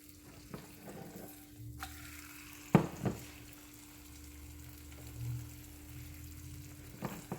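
An egg frying in a hot pan gives a quiet, steady sizzle, broken by a few sharp clicks and knocks of a utensil against the pan.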